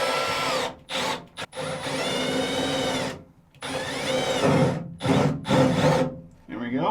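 A cordless drill bores holes into a jet boat bulkhead for LED bow lights, whining in several loud bursts with short pauses between them, up close.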